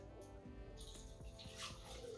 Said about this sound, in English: So normally I'm gonna put 1 cup of water in here